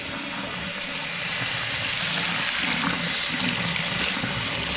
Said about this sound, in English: Now rinse out the milk.